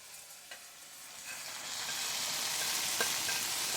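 Chopped ingredients go into a deep wok of boiling water with vegetables, giving a soft, steady bubbling hiss that swells gradually, with a few faint clinks.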